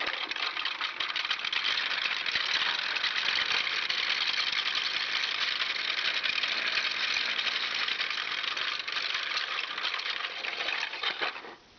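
A 3D printed air raid siren spins up with a steady, dense, rattling mechanical whir that stays loud and even for about eleven seconds before cutting off at the end.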